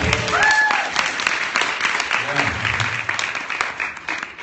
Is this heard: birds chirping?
no